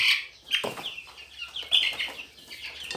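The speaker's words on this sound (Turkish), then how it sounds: "baksanıza civciv sesi bile değişmiş arkadaşlar büyüdükçe." Growing chicks cheep and cluck in quick bursts, their maturing peeps sounding slightly deeper and rougher, close by with a faint low hum underneath.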